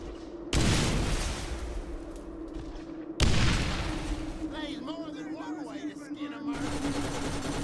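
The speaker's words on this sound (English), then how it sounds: "He's going with rockets first." Rockets fired by the boss Krom from his cannon in Borderlands, two sharp loud blasts followed by long roaring rumbles, with someone talking over them and chirpy electronic game effects near the end.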